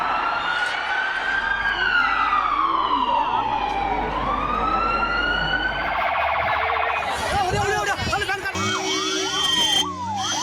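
An ambulance siren wails in rising and falling sweeps amid a packed crowd at a political rally with a stampede, loud and near, then gives way to chaotic crowd noise and clatter.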